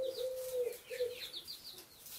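Hens with drooping wings cluck and coo softly at close range in a coop, a short run of gentle tonal calls with no voices.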